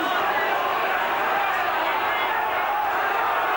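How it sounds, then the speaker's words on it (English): Steady broadband roar of a large rugby league crowd at a St Helens versus Australia match, restless and unhappy during a long stoppage in play, heard from a distance and unbroken throughout. "The crowd getting unhappy with this long pause in play"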